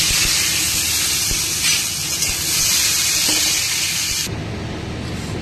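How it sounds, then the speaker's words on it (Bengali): Nigella seeds tempering and cut potatoes frying in hot oil give a loud, steady sizzling hiss that runs unbroken, then drops suddenly to a softer bubbling near the end. "কালু জিরে ফোড়ন আর আলু কেটে কেটে দিয়ে দেবেন"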